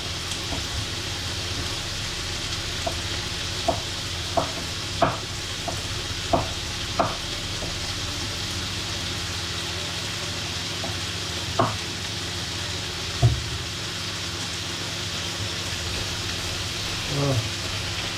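Confit gizzards cooking in a pan for a salad, a low steady sizzle running throughout with scattered light clicks and scrapes of stirring, quiet and close, no talking.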